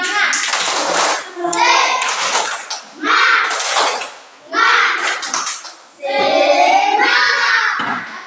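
A group stands for an ice-breaking clapping game, bursts of chanting voices alternating with sharp collective hand claps in short rhythmic rounds, separated by brief pauses.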